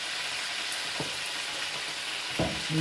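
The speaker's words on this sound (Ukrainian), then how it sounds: "вони махом посмажаться, махом" Young rabbit meat fries in a pan with a soft, continuous sizzle, broken by a few sharp spits and pops of oil, heard close with no voices.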